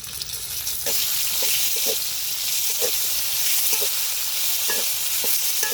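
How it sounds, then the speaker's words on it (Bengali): Pointed gourd fries in mustard oil in a pan, giving a loud, steady hiss and sizzle while a utensil stirs and taps against the pan in scattered clicks. "পটল ভাজা হয়ে গেছে, নামিয়ে নিব।"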